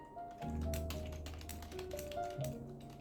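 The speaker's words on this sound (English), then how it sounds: "So why not we go back and try again the membrane keyboard, so see how is the speed." Fingers type on a membrane computer keyboard, a quick irregular run of soft, muffled key taps heard up close and fairly quiet, with no talk.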